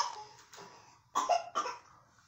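A few harsh coughs: one soft cough, then after a pause two louder, rougher coughs close together, heard up close with no talking.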